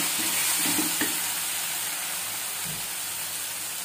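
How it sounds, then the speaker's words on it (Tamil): Onions and tomatoes sizzle steadily in a hot pan while cooking for a South Indian tomato chutney, a continuous close frying hiss with a few faint stirring clinks and no talking. "இப்போ வெங்காயம் தக்காளி நல்லா வதங்கிருச்சு."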